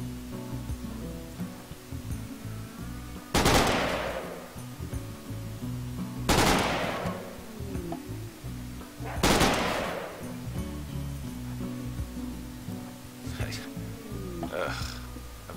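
Video game gunfire in RimWorld: three sharp, loud shots land at roughly even intervals, followed by a couple of fainter reports, all over a steady music bed.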